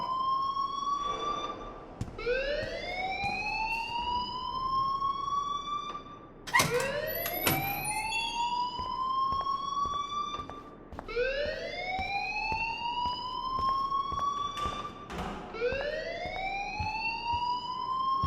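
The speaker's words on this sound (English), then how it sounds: "please turn off that alarm since that's your job" A repeating electronic alarm rings in the Life Is Strange video game, each rising whoop sweeping upward and holding, cycling steadily about every four seconds, loud and continuous with no talk over it.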